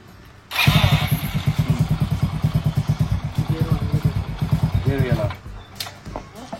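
A motorcycle engine starts and runs with a loud, close, pulsing chug for several seconds before dying away, with people talking over it.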